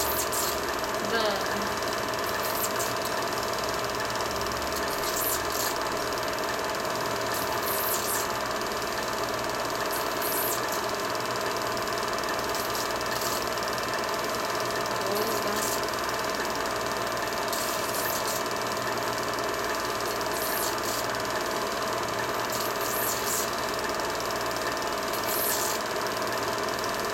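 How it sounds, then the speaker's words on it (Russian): A small boat or yacht motor runs steadily throughout, a continuous mid-pitched engine drone with faint mechanical ticking, heard alongside background voices. "Судя по всему, это наша лодка. Яхточка."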